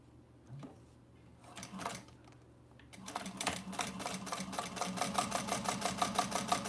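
A sewing machine stitching a Siah Sidekick bag starts up after a few quiet seconds, then runs in a steady rapid rhythm of close, moderately loud needle strokes to the end.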